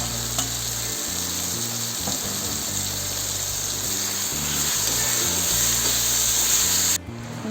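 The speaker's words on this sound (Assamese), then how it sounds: "এইবাৰ মই আলুখিনি ভাজি ল'ম।" Potato pieces frying in hot oil in a home kitchen for an Assamese drumstick curry, a steady close sizzle throughout with faint stirring scrapes and a low steady background hum.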